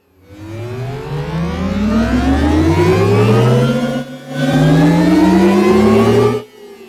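Synthetic electronic drive sound designed for the Audi R8 e-tron electric supercar, a loud rising whine with stacked climbing tones like accelerating revs, briefly dipping then swelling again before stopping.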